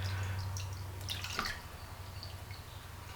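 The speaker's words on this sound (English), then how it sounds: "So I'm pouring this in a cheesecloth lined strainer." Dandelion tea pours and drips through a cheesecloth-lined strainer into a measuring container, making close, soft liquid trickling and scattered drips, with a low hum at the start.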